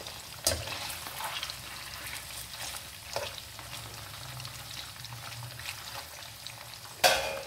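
Fish frying in a karahi of hot oil, a steady close sizzle and crackle running throughout, with a few sharper pops and spatters along the way.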